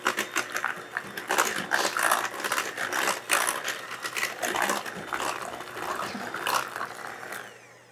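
A close, continuous whirring and rattling mixes pumpkin bar batter to work in the pumpkin, a busy textured churn that shifts slightly in intensity throughout.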